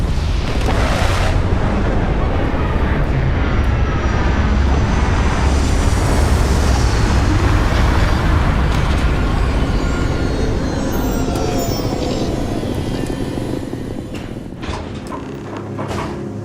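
A spaceship landing in the video game Starfield produces a loud, sustained roaring rumble with rising whooshing tones, easing off near the end into a few mechanical thuds and clunks.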